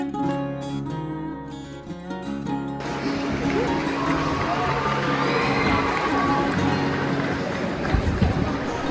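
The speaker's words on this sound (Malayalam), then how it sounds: "അതിനെ കയ്യടികളോടെയാണ് കാഴ്ചക്കാർ സ്വീകരിക്കുന്നത്" An audience applauding a light projection show on buildings in Belgium: after a few seconds of tonal music, a broad wash of clapping and cheering from a large outdoor crowd rises and holds steadily.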